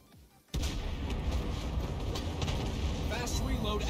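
USS Salem cruiser's main guns firing in World of Warships Blitz, a sudden loud boom that rolls into a sustained heavy rumble of shots, close, with a voice talking over it.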